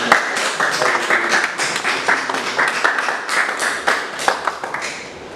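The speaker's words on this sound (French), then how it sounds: "j'aimerais qu'on puisse vraiment les applaudir" A church congregation applauds its worship team at a Sunday service, many hands clapping loudly in a dense, slightly uneven burst that slowly thins toward the end.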